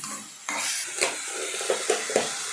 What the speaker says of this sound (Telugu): ఇలా బాగా కలుపుకోవాలి